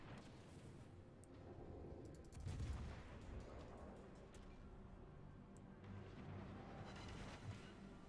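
Heavy naval gunfire from battleships firing at a Prinz Eugen cruiser in a warship video game, a dense rumbling barrage of booms with a stronger burst near the middle, heard alone over constant low battle noise.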